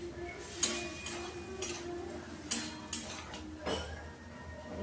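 Potatoes and chickpeas stirred in a pan while cooking, quiet scraping and clinking of a spoon against metal in a few separate strokes over a soft low sizzle.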